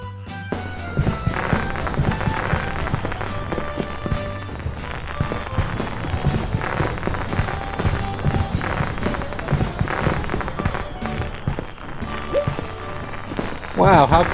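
Video game fireworks during a festival night in Rune Factory: Oceans, with continuous popping bursts layered over background music, loud and steady throughout.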